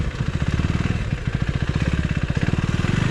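A 2024 Husqvarna Svartpilen 401 motorcycle rides along a narrow single track, its engine giving a loud, close, evenly pulsing thump that holds steady throughout without talk.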